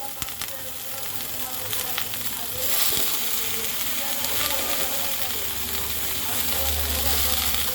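Cabbage sizzles in fried spice paste with a fish head in a pan, giving a steady close frying hiss with scraping stir strokes, a short clatter, and a rising sizzle near the end.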